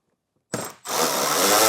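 A power tool fitted with a 7mm socket backs out a bolt during a base plate installation on a 2025 Chevrolet Trax, giving a short close whir that dips briefly and then surges into a sustained buzzing spin.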